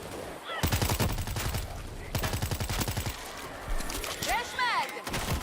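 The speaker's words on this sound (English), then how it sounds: "Stop shooting at me!" Rapid bursts of automatic gunfire from World War Z, a zombie shooter game, crackle in dense volleys across the clip with short pauses between them, mixed with game effects and shouted voices.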